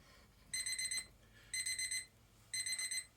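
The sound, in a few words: alarm clock ringing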